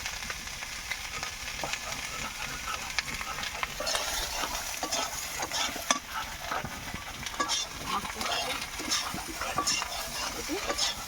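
Ginger paste fries in a pan under continuous sizzling, with frequent scraping and stirring strokes throughout and no voice heard.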